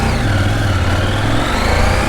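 Motorcycle without traction control with its engine revving loudly and close, a continuous droning roar with a pitch that shifts slightly throughout.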